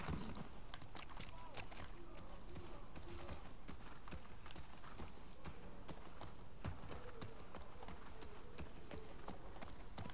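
Horse hooves clip-clopping in The Last of Us Part II, a steady run of dull thuds under continuous game ambience and music, with people talking over it.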